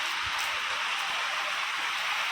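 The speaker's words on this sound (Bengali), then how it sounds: "জোরটার হাওয়া দিচ্ছে, তার সাথে বৃষ্টি শুরু হলো" Steady, heavy rain driven by strong wind, hissing without a break, a dense wash of noise with no voices.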